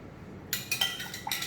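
Blue curacao and water stirred in a jug, heard as several light clinks and taps against the container in an uneven rhythm, close and fairly quiet, with no talking.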